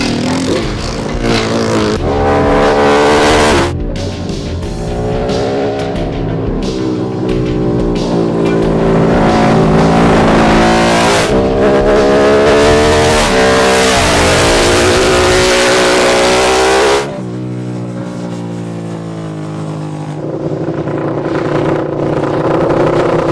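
A race-ready MotoGP motorcycle engine revs hard and close in repeated rising and falling sweeps, with a brief lift off the throttle before it builds again, loud and alone with no talk.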